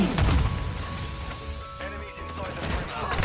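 Loud Warzone explosions and gunfire boom continuously under a busy mix of effects, with a voice talking over the top.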